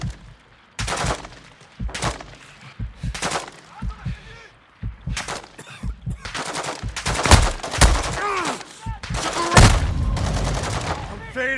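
Gunfire in the video game Call of Duty Warzone 2.0, with loud, close bursts and rapid volleys of shots that come in irregular clusters. Voices and radio chatter are heard between the shots.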